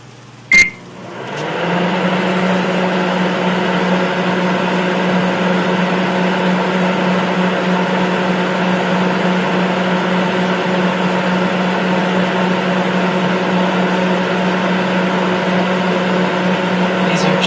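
A microwave oven heating hash browns and chopped onions: a sharp click, then a loud, steady electrical hum with a droning buzz that runs unbroken for the rest of the stretch.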